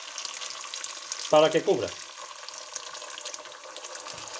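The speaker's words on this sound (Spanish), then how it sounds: "que se están empezando a freír las lentejas" Lentils sizzle and fry steadily in a pan for a Canary Islands lentil dish, a continuous crackling hiss with a brief louder stir or pour near the start, while a person speaks briefly.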